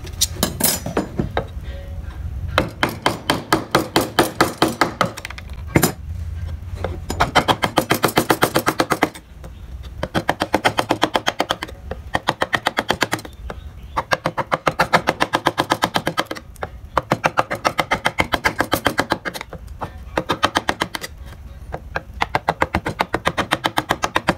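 A carving chisel is hammered into wood while a barong motif is carved, producing rapid, sharp, evenly spaced knocks in long bursts separated by short pauses, loud and close with no talk.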